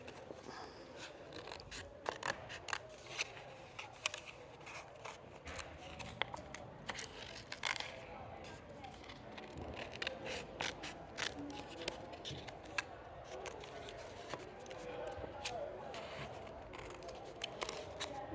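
Scissors snipping through a festive paper stencil, a steady series of close, crisp cuts and paper rustles running throughout with no talk.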